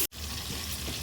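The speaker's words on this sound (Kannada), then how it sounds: "ಅದಕ್ಕೆ 7 ಗ್ಲಾಸ್ ನೀರು ಹಾಕ್ಕೊತಾ ಇದ್ದೀನಿ" Water pours steadily into a cooking pot for chicken mandi rice, a brief continuous splashing rush after a short gap, with no talk.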